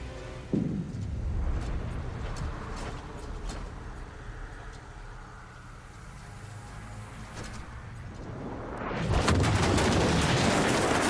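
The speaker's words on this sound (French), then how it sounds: "Ça, c'est l'explosion." Heavy booming blasts and rumbling gunfire in a Cold War video game campaign, a sharp explosion near the start and another loud surge near the end, continuous roar between.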